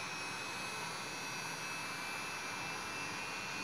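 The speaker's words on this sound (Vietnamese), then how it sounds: "Thì động cơ quay nghịch lại." Electric motor run in reverse by a Fuji inverter, giving a steady, even whir and broadband hum with a faint high whine, continuous and unchanging throughout, no voices.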